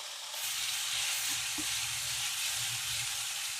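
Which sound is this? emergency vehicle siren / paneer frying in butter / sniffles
paneer frying in butter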